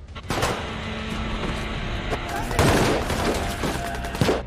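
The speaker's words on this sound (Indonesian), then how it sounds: "Dan di sana kembali terjadi aksi baku tembak." A gunfire exchange in a film scene set in Iraq, with rapid crackling shots and bursts layered over rumbling background, loud and dense throughout, while a voice talks over part of it.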